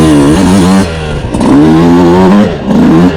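A 2026 Yamaha YZ125X two-stroke motorcycle revs loud and close, its buzzy engine note rising and falling through several throttle blips, with a brief dip between pulls and no talking.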